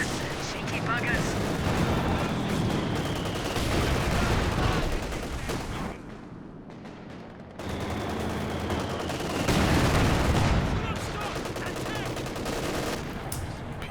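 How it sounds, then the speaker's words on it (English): Dense infantry gunfire in Company of Heroes 2, a World War II strategy game, with rapid overlapping rifle and machine-gun bursts sustained at high level, briefly easing before resuming, amid battle noise. "Infantry firing at us."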